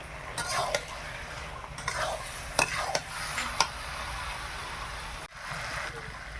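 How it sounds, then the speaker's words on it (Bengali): Meat added to fried spices in a pan, a soft continuous sizzle with intermittent metallic scrapes and clinks of a spoon stirring against the pot, close by. "মশলাটা খুব সুন্দর ভাজা হয়ে গেছে, এবার মাংসটা"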